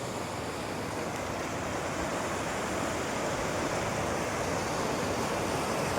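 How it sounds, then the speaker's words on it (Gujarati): A village river in flood after the monsoon rains, with floodwater rushing in a steady, even roar, fairly distant and unbroken, and no voices. "અમારા ગામની નદીનો પૂર છે."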